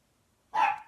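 A single dog bark, sharp and close, breaks an otherwise quiet room and tails off quickly.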